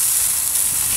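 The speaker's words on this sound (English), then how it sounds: "You can hear it sizzling." Flame-grilled burgers sizzle on an outdoor barbecue grill, a loud, steady broadband hiss filling the whole moment, with no voices.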